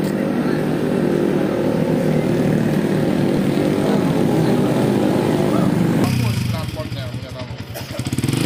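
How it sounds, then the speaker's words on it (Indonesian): A motorcycle fitted with a loud open brong exhaust roars with a continuous, harsh drone that shifts in tone near the end, with a voice speaking over it. "sepeda motor berknalpot brong karena suara bisingnya mengganggu kenyamanan warga tidur"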